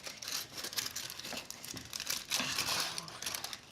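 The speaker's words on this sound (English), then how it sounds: "now carefully open your foil here" Aluminum foil covering a dish of baked stuffed pasta shells being peeled open, a close crinkling and crumpling with a few tearing rustles, heard alone.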